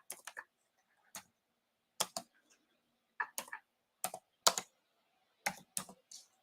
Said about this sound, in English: I'm typing like a psycho.